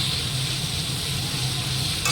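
A spice mixture frying in a pan sizzles in a steady, even hiss, close and continuous throughout with no pauses or voices.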